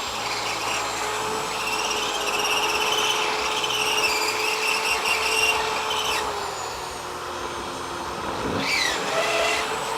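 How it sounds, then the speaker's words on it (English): A power drill fitted with tungsten carbide bits whines steadily as it bores into rusty sheet metal on an old Dodge Charger crew cab. The pitch dips and shifts as the bit bites, loud and close, with no speech. "Dude, these tungsten bits rule. I think these are tungsten carbide."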